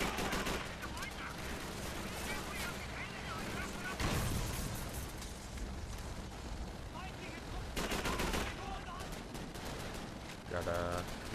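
Dense, sustained gunfire from the Call of Duty 3 video game: rapid automatic bursts and heavier blasts that stay loud and close throughout, with a voice talking over the shooting.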